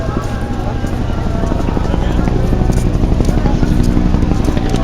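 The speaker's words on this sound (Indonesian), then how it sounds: "Helikopter bolak-balik." Steady rhythmic rotor chopping of a helicopter flying back and forth near the Jamarat during the Hajj fills the air, loud and continuous, with a broad rumbling wash of background noise.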